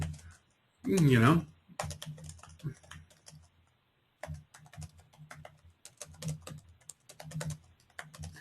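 Someone types a post on a computer keyboard, producing quick irregular clusters of nearby key clicks across the whole stretch, with a brief voiced sound near the start.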